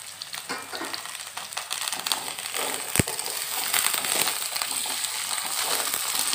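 Drumstick pieces dropped into potatoes already frying in a pan, a steady crackling sizzle with a sharp thud midway as they land, the frying growing slightly louder afterward.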